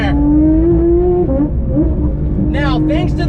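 A 992-generation Porsche 911 GT3 engine revs loud and close, its pitch climbing steadily before dropping back without reaching the redline, then rising again with a few quick throttle blips toward the end.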